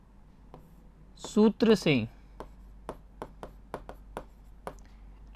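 Pen writing a formula on paper while working a Class 10 quadratic equations maths problem, heard as a string of short, sharp scratching strokes at close range, with a brief burst of speech early on.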